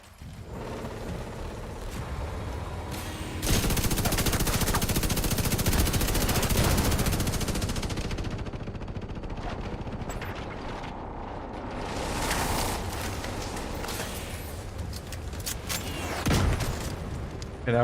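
Light machine gun fire in The Division 2 on the streets of D.C.: long sustained bursts of rapid shots with heavy booms, loud and close, pausing between volleys with brief lulls.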